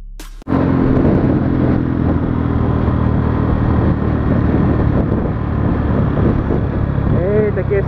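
Delivery motorcycle ridden through city streets at night, its engine droning steadily and loud up close for the whole stretch after a sudden start, with wind rumble on the mic and a rider's voice talking over it.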